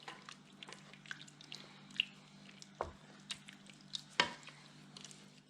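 A spoon works Worcestershire sauce and white sugar into a thick lasagna meat sauce in a pot, making soft wet squishes and scrapes at an irregular rhythm, close and quiet, with no talking.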